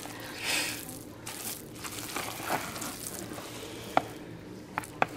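Ground meat mixture stirred in a pan, a soft continuous sizzle with scraping spoon strokes and a few sharper clicks against the pan, quiet and close.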